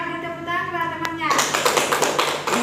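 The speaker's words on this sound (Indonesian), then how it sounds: "Beri tepuk tangan kepada temannya." Classroom applause for a classmate: a burst of clapping breaks out after about a second and continues steadily, with children's voices mixed in.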